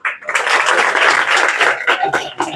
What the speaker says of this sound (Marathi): टाळ्या वाजवा मोठ्याने.